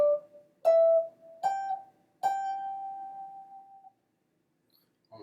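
An electric guitar plays a short Southern rock solo phrase of four clean, separate picked notes, the last one held with vibrato and fading out, close and fairly quiet, followed by silence.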